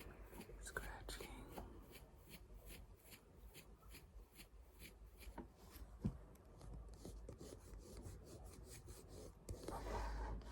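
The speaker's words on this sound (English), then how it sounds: "How do we feel about the scratching sound?" Close, quiet ASMR scratching, a dry rhythmic rasp repeated in short strokes on a surface, with soft whispered speech mixed in and a brief louder rub near the end.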